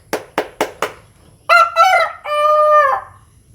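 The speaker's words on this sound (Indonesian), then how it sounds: "Nah, ini suara ayam berkokok ya." Four sharp flapping beats come first, then a rooster crows loudly and close in a long, clear cock-a-doodle-doo with a held final note, in quiet surroundings.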